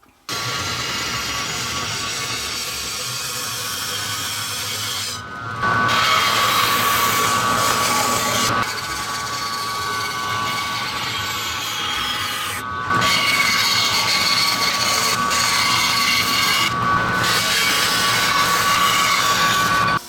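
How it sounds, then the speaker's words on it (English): A bandsaw cuts small arches out of a wooden calendar backboard, a steady humming whine with a raspy cutting noise that stops and restarts between passes, loud and close with no talking. "going to take our backboard over to the bandsaw. I'm going to cut out all of our little arches"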